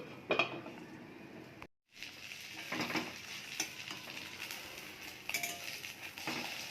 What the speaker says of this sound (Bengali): ডিম ভাজা হয়ে গেছে